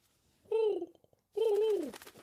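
Two drawn-out pigeon coos, each a rolling, warbling call about three-quarters of a second long, sounding fairly close with a short quiet gap between them.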